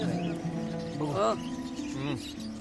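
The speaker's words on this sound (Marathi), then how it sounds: "चिमणे ऐकता तुम्ही?" Sparrows chirp outdoors in short, bright bursts and brief trills, fairly close and clear against a soft background hum.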